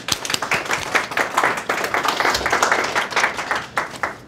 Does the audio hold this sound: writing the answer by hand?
no